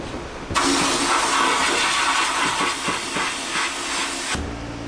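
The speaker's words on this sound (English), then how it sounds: "Now I'm gonna sandblast it." Sandblaster blasting a scuffed Honda CBR1000RR motorcycle part, a loud continuous broadband hiss of air and grit that starts abruptly, runs steadily for about four seconds with slight pulsing, then cuts off sharply.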